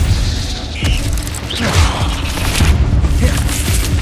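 Hogwarts Legacy Incendio fire spell being cast, a dense burst of magical whooshing and rumbling thuds with crackling swells that stays loud and close for several seconds amid other game effects.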